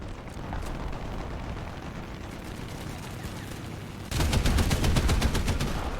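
Heavy gunfire in the War Thunder combat video game rumbles as a dense, continuous barrage and then grows louder and more rapid near the end, with no voices.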